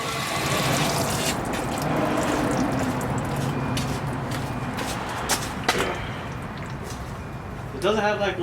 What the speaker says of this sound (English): And hopefully I can just use the fuel pump to drain the fuel tank.